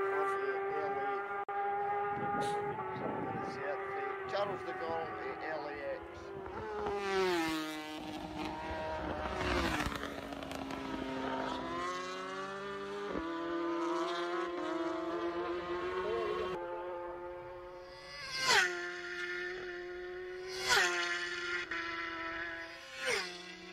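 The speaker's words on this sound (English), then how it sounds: "That's a Ducati. That sounds like a Duke right there. Either a Duke or an R1." Ducati racing motorcycle at the Isle of Man TT road race: high-revving engines wail past in several surges, pitch sweeping and gear changes audible, with sharp close passes near the end, heard fairly faintly through a broadcast mix.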